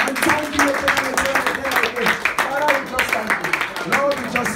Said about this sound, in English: Clap those hands for Jesus and thank you for your prayer.